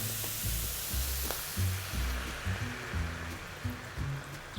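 Red wine splashed into a hot pan of sizzling beef (araignée de boeuf) gives a steady, close frying hiss and bubbling that holds evenly throughout with no one speaking.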